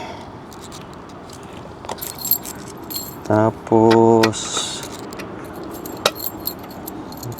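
Keys jangle up close in a couple of short, bright metallic clinking bursts during preparations for a cross-country relocation road trip, with a person speaking around them and faint background noise.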